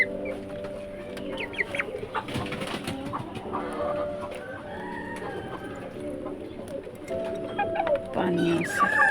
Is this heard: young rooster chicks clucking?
yes